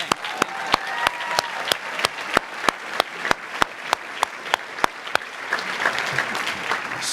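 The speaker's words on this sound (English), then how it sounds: "So can we have a round of applause, please?" Sustained applause from a crowd at a high school senior awards ceremony, with a few loud sharp claps standing out from the steady clapping.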